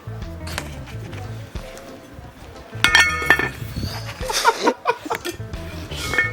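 Rice poured into a metal pot over an open fire for Jamaican rice and peas, with clinking, scraping utensil and pot clatter in irregular bursts, nearby and moderately loud, with faint voices in the background.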